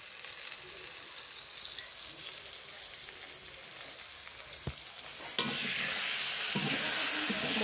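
Masala spices fry in oil in a pan, a continuous sizzle with stirring scrapes and one sharp tap, then a louder, brighter burst of hissing that carries on to the end.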